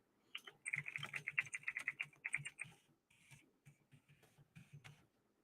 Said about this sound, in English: Sorry if you hear me typing real quick.